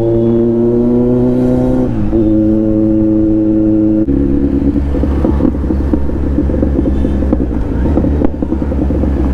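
A Kawasaki Z900 motorcycle with a new aftermarket exhaust, ridden at normal speed, gives a loud, close, steady engine drone with a shifting pitch and rough, crackly texture.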